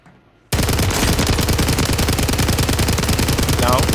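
Rapid automatic gunfire in a battle-royale video game rattles in a dense, continuous loud burst of evenly spaced shots lasting over three seconds after a quiet start.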